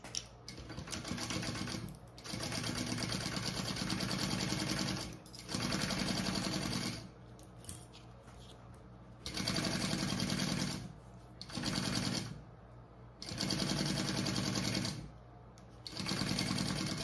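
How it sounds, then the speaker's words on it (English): A sewing machine stitches a seam in a waist pack at full seam allowance, running in steady loud bursts of rapid mechanical whirring separated by short pauses, with no talking. "now I'm going to sew that at my full seam allowance"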